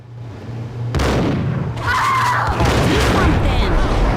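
Gunfire erupts in a Max Payne shootout, sharp broadband blasts starting about a second in and continuing in a dense, loud barrage with mechanical clatter underneath, close and intense.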